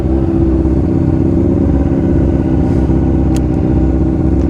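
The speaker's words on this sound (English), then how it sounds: "But scary motorcycles, they go loud." Loud, steady engine roar of motorcycles close by on a road, a continuous rumbling drone that fills the whole moment with no talking.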